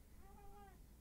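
A single soft cat meow, brief and close, rising and falling once against a quiet background.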